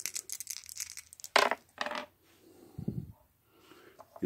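Dice clatter onto a table during a tabletop wargame of knights and spears, a few short rattling bursts up close, followed by quieter handling noises.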